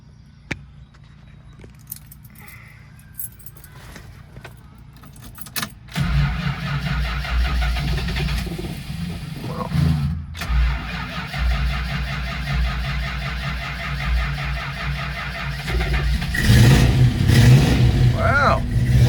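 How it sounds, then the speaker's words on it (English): A 1970 R/T with a 440 V-code six pack engine: keys rattle, then a slow crank catches at about six seconds into a loud rumbling idle, with blips of revving and a person talking. "Wow, a little slow crank on that one."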